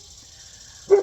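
A single short dog bark from inside the house, brief and somewhat muffled at the end of an otherwise quiet stretch.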